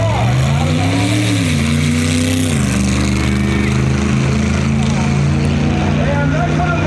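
A drag racing car engine at a duct-tape drag event holds loud and close on the rev limiter, its harsh steady buzz wavering briefly in pitch, with a voice talking over it.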